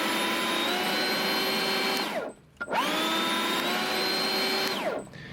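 A battery leaf blower, a Stihl BGA 86 or BGA 250, roars with a high whine, spins down to near silence, then revs back up to full turbo boost before winding down again.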